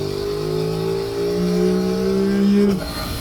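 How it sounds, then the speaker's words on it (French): An Aprilia RS 660 sport motorcycle engine revs with a rising, buzzing whine, held steady and loud close by, then drops off abruptly near the end. "Ce petit bruit qui vous signale qu'on est vraiment sur une petite bécane de course très sympathique"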